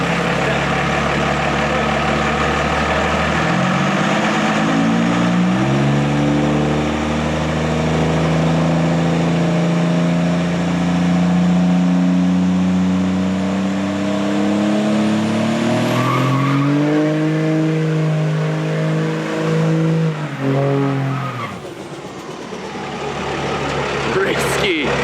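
Short-bed pickup truck with stock valve springs doing a burnout in third gear: loud sustained engine roar climbing in pitch over many seconds, with tire squeal and a brief dip before revving again, close and continuous.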